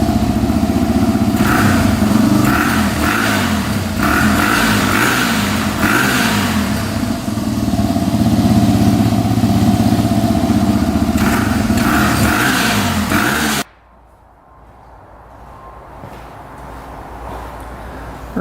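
Engine running steadily while being checked before sale, a loud, close, even drone with a few small revs that cuts off abruptly near the end, leaving quiet room noise.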